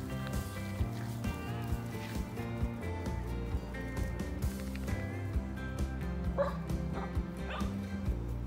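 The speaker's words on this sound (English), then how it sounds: "That was Moo Moo barking, just in case you've never heard it before." A pet dog barks and yips repeatedly over a steady background of music with a strong low beat, the barks mid-distance and partly masked, with no talking.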